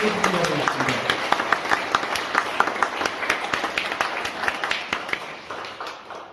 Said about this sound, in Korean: 우리 모두를 향해서 뜨거운 박수와 함께 나누겠습니다